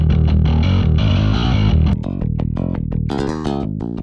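A heavily distorted, gritty bass guitar tone from a Modern Music Solutions Seismic Bass Suite rig, played as loud sustained chords and then choppy, punchy riffing notes, dense and saturated with no talk.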